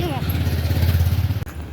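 A motorbike passes on a road close by during a Diwali outing in Alwar, its low pulsing engine throb rising and falling under people talking, then fading abruptly.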